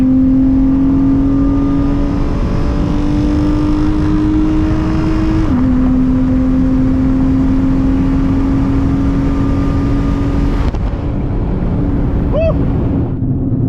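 A car accelerates hard on a straight, its loud exhaust drone climbing steadily in pitch, dropping briefly at a gear shift partway through, then pulling again before easing off near the end.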